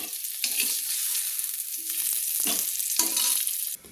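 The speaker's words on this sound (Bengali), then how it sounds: "তো এইভাবে ভেজে নিতে হবে পেঁপেটাকে।" Papaya pieces frying in oil in a kadai, with a loud, steady broadband sizzle throughout and occasional scrapes and clinks from a spoon stirring and lifting the pieces.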